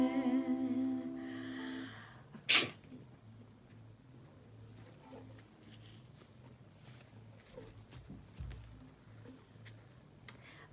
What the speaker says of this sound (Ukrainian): Ось так я ловлю своє чхання, своє чхання, своє чхання.